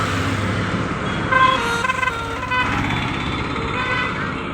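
Busy road traffic in Prayagraj, a steady rumble of engines with several short horn toots near the middle and a vehicle passing close by.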